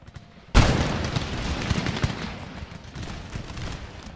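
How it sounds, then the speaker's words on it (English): Troops firing guns during a siege of Constantinople in the video game Empire Total War: a sudden loud crash of musket fire opens into a sustained rolling fusillade of overlapping shots and rumble, tapering slightly but continuing throughout. "They're firing on the ones actually coming out of the fort."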